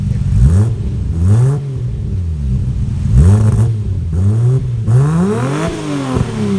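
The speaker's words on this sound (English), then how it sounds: "Get ready because we are going to take this car for a spin." A 1990 Nissan Skyline R32 GT-R with over 600 horsepower revs hard and accelerates repeatedly, loud and close, with rising engine sweeps cut by gear changes and brief dips between pulls.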